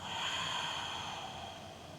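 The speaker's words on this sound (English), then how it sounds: "Breathing out." A slow, soft exhale through the nose during a gentle yoga breathing exercise, a faint, airy, continuous rush of breath heard close up with no talking.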